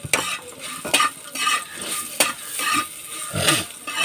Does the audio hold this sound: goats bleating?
no